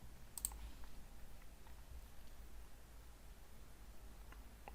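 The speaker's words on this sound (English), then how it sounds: "So we just need to click on next now." A single crisp mouse click on a next button, close and brief, followed by quiet room noise.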